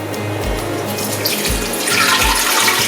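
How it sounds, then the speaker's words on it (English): Water runs steadily from a tap into a pot, a continuous close splashing pour. "Then add the water."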